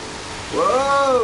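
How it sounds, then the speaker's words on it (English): Rainfall in the Driveclub racing video game, a steady wash of noise with a tonal swell rising over it partway through, fairly loud and close, no voices. "I turn on the function of the rain quite a lot"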